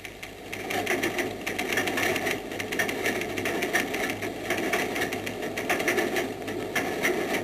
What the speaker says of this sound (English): the compositor, whose linotype machine makes the type